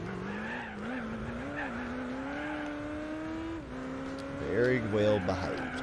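An IROC Z races around Laguna Seca in Gran Turismo 4, its engine droning steadily with a short burst of tire squeal near the end, while someone talks over it.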